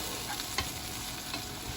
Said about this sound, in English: I'm just trying to saute this a little bit